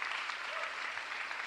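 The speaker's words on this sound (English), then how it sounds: "Please give them a round of applause" Steady applause fills a hall during the Philadelphia mayor's State of the City address, a continuous even wash of clapping heard from a distance, fairly soft and without speech.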